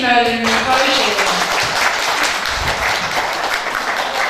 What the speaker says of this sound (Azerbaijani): Hər çalan əlləriniz var olsun, çox sağ olun.